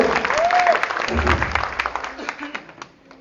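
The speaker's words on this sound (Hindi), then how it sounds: "एक बार जोरदार तालियां" Applause from the audience at a DHB Group victory celebration, dense clapping that builds and then thins out into scattered claps, with a voice carrying over it.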